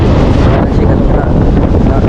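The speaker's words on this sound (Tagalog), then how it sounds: "Ang hangin, kalakas no, pero grabe mga ka-Diyos ang dagat." Hard wind off the sea at Bucana blows in a loud, close, rumbling rush, with faint surf underneath, constant for about two seconds.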